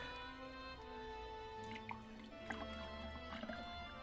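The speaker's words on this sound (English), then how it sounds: "My dog perks up at the sound of the water entering my little mug" Water pours into a small mug with a steady liquid trickle and a few drips, close and quiet, as a low hum runs underneath.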